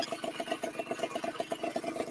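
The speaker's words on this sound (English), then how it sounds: "You can hear the engine revving or running." A small engine on a motorized bicycle runs at a steady, fast pulsing putter, fairly quiet and unaccompanied by talk.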